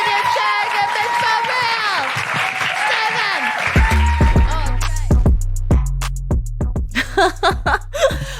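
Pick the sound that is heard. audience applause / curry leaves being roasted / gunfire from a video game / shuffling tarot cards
audience applause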